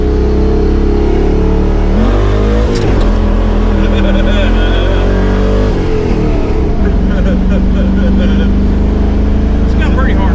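A 5.3 V8 truck engine idles loudly and up close, then revs in two surges with an uneven, stumbling beat from a hard misfire; a voice is heard over the engine.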